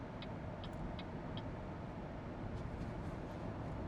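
A BYD Sealion 7 electric SUV overtakes a truck on an open road, giving a steady, loud rush of tyre and wind noise with a few faint ticking clicks early on and no engine note.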